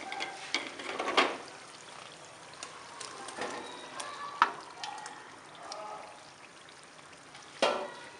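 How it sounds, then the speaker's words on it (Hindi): Koftas go into hot, fried masala in a pan for an achari kofta curry, giving a soft sizzle broken by several sharper splashy bursts of frying. "अब हम इसमें कोफ्ते शामिल कर देंगे।"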